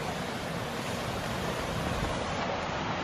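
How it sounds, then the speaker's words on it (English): Running water in a shallow mountain stream on a hiking trail, heard as a steady, dense rushing hiss that stays even and fairly loud throughout with no voices. "I can hear running water"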